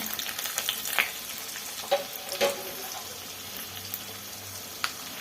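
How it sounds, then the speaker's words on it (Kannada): Cumin, cashews, chana dal and urad dal fry in hot oil in a pan for uppittu, giving a steady close sizzle broken by a few light stirring clicks and scrapes. "ಎಲ್ಲ ಸೇರಿ ಈ ಥರ ಫ್ರೈ ಮಾಡ್ಕೊಳ್ಳೋಣ"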